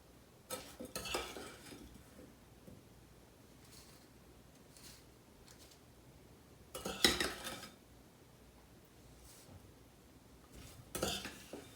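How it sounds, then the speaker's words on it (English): A rhubarb and strawberry pie filling is spooned into pie shells: bursts of spoon scraping and clinking against a bowl and pans, separated by long, quiet pauses. "And then we'll just pop the rhubarb strawberry mixture into each pie shell."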